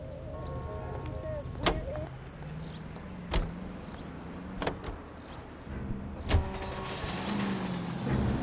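Car being driven in L.A. Noire, a low engine drone running under the scene with several sharp mechanical clunks and door-like thuds spaced through it, and voices speaking at times.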